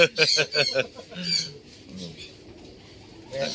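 Racing pigeons coo in a loft, soft repeated low calls near the start over a quieter roomy background, with people talking partway through.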